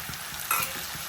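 Onion, green chilli and tomato fry in a pan for beef curry, giving a brief steady sizzle with a faint stir in the middle.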